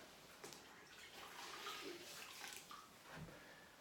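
Wallpapering tools rinsed in a container of clean water to wash off excess lining-paper paste, giving soft, close splashing and sloshing with brief swishes throughout.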